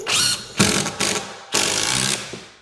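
A power driver sinks a screw into oak during an electric fireplace installation, with bursts of ratcheting, whirring drive separated by short pauses, close and fairly loud.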